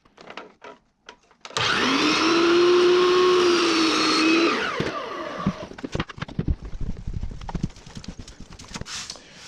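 A miter saw cutting wooden window trim, its motor spinning up with a loud whine that holds for about three seconds, then winds down into clatter and handling knocks.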